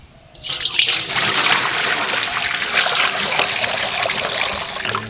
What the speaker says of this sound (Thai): นี่ครับเอาน้ำใส่อย่างนี้